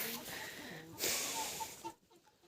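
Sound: chickens and rooster clucking

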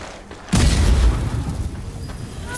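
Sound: grenade explosion in the video game Strange Brigade

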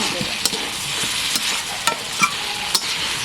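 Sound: stirring spice masala in a pan

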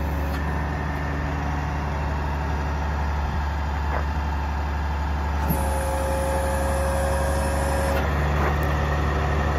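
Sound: 2006 International 4400 digger derrick truck engine running

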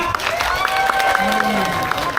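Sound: crowd applause at a black buffalo contest

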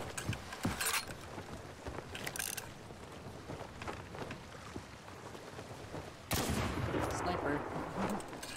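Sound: sniper gunfire in a video game

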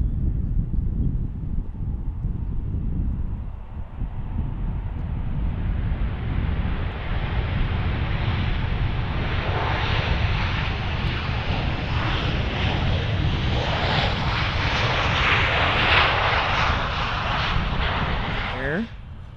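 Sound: airplane taking off at Cincinnati airport

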